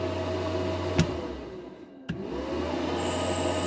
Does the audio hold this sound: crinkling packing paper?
no